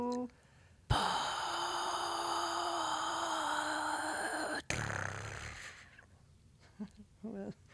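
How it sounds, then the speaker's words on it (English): A long, deep breath drawn in and held as part of a sound-making exercise, a sustained breathy rush lasting several seconds, fairly loud and close, then easing off into quieter soft noises. "So you take a big breathing and you go."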